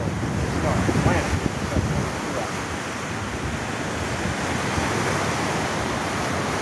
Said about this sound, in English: A little windy right off the beach.